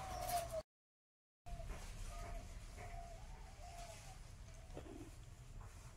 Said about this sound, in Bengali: আমাদের বাসঘরে দেখুন আড়ার উপরে ঘুঘু বসে আছে